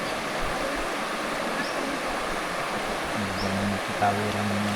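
A river in the Philippines, deep enough that crossing it with horses is hard, flows with a steady broadband rush of water. A low droning hum joins in partway through.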